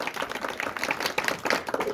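An audience at a Jain monk's sermon claps: a brief, dense burst of many hands clapping, heard up close and evenly for about two seconds.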